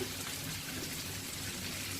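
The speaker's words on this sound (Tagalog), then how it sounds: "lalagyan ko ito ng konting tubig" Water poured into a cooking pot for lechon paksiw, a steady continuous rushing pour running the whole time, fairly close and alone.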